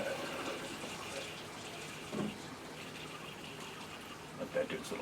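Water runs steadily through an aquarium RO/DI filtration unit during a flush. The flow makes a continuous soft hiss with a few faint clicks and knocks.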